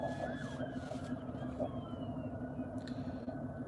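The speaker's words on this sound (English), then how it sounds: "It's too early in the morning for all these sirens and things" Wailing sirens rise and fall in the distance over a low rumble of traffic in the early morning, continuous throughout.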